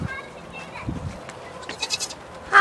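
A goat bleats in short, faint calls outdoors, with people talking excitedly nearby and a louder bleat at the end.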